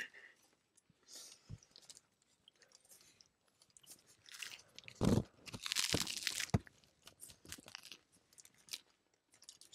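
Crunchy hard Taco John's taco shell being bitten and chewed up close, with scattered crisp cracks and a few louder crunching bursts in the middle; no talking.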